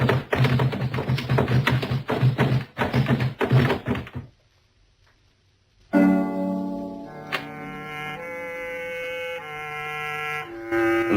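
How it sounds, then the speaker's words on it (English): Radio drama sound effect of a man tumbling down a wooden staircase, a fast run of heavy thumps and knocks ending in a final thud, followed by a pause and then a sustained musical chord. "The man who just fell down the stairs is Colonel James Fisk, Jr."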